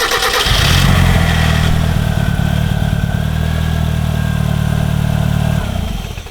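A Mazda car engine cranks and catches, then settles into a loud, steady idle close by before cutting off near the end.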